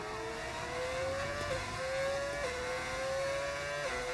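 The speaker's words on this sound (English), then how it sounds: "Car sounds so bad." A racing car engine in an F1 video game drones steadily, its pitch climbing and dropping back in repeated gear shifts, with a rough synthetic edge like game audio, at the Brazil race.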